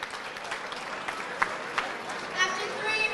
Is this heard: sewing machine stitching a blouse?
no